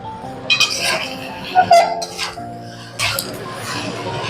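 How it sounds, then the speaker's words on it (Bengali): Maggi noodles with masala get stirred in a pan, a few scattered metallic clinks and scrapes of a utensil against the pan, close by and with short pauses between them. "এবার ভালো মতন নাড়াবো"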